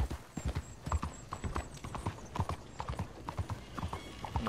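Steady clip-clopping horse hooves at a brisk gait in Red Dead Redemption 2, with a short whinny early on, fairly faint with no talking.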